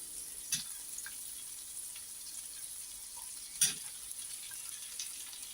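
Chopped potato fries in a pan for vegetable soup, a soft, quiet sizzle with a couple of brief stirring clatters, close and otherwise steady, without talking.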